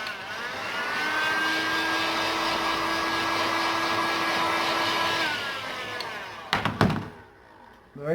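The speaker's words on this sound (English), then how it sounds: "The only thing with the heat gun is you just need to watch you don't put too much heat into it, because obviously you can melt the vinyl" Heat gun warming vinyl tolex along the edges, a steady close whirring blower drone with a motor whine that cuts out, followed by a few handling clatters.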